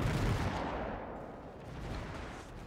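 Naval gunfire in World of Warships as the Yubari, a Japanese Tier IV premium cruiser, pounds enemy ships with HE shells: a continuous low booming rumble with a heavier thump at the start, fairly faint, with no voices.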